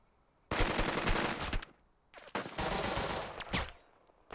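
Squads trade bursts of rifle and machine-gun fire in the WWII tactics game Burden of Command, two long loud fusillades of rapid crackling shots separated by a brief pause, with no talk.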